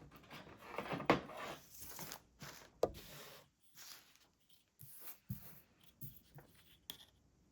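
Paper is torn by hand for a junk journal, with quiet, close, scratchy ripping bursts in short irregular strokes and soft rustling between them.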